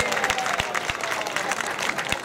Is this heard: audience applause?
yes